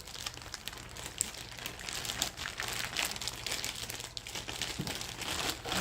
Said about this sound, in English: You just squish the bag and squish all of those ingredients